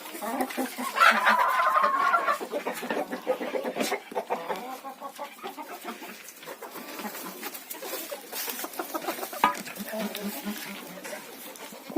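Chickens and bantams cluck and call in a farmyard henhouse, a few louder squawks up close over steady scratching and rustling, with occasional faint bird calls in the background.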